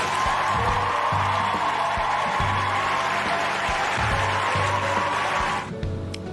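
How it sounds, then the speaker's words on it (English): Applause from a small group after watching a Dragon Ball Super: Super Hero movie, steady clapping throughout that stops abruptly near the end. "I want to clap that up, though."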